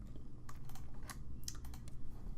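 Quick clicks from a computer during storyboarding work in Krita, a run of short sharp taps in an irregular rhythm, close and fairly quiet, with no talking.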